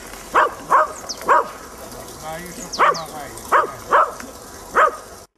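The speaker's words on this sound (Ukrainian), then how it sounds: "Зимову риболовлю песик дуже полюбляє." A small dog barks repeatedly during winter fishing on a frozen lake, with about seven sharp, evenly spaced barks, close and loud over faint outdoor background.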